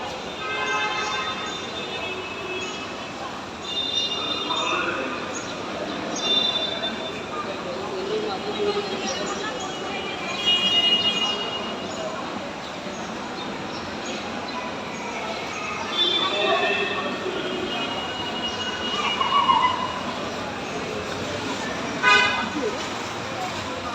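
Railway platform ambience with trains, murmuring crowd voices and a busy hum throughout, punctuated by several short, bright horn or whistle toots at scattered moments, moderately distant.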